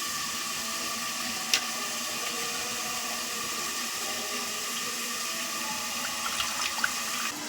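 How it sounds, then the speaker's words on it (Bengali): Water pours steadily off soaked grated potato starch into a vessel, a continuous close splashing stream with a couple of faint clinks and no talking. "এবার জলটাকে এইভাবে আমি গড়িয়ে নিচ্ছি"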